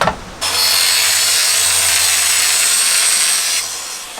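A power saw bites through wood while building a wooden garage for a robotic lawnmower, a loud steady rasping cut lasting about three seconds after a short start, then easing off as the blade finishes, with no talk.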